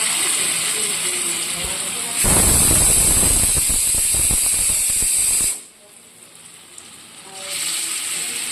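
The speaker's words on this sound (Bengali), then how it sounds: "এরপর এগুলোকে খুব ভালো করে লাল লাল করে ভেজে নিতে হবে।" Small mixed-vegetable fritters hit hot oil in a pan and burst into a loud, roaring sizzle for about three seconds. The frying then settles into quieter bubbling, with a voice speaking around it.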